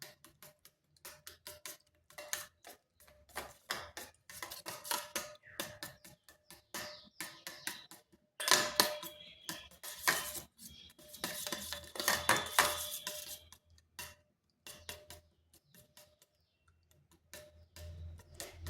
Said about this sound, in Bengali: এরপর এগুলো ভালোভাবে মিশিয়ে নিচ্ছি।